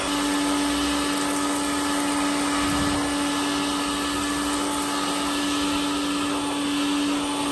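A Vax vacuum cleaner with an Electrolux plastic hose and two wands, in good condition for its age, runs steadily and loudly with a constant motor whine and airflow roar, close by and alone.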